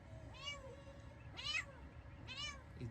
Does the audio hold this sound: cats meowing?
yes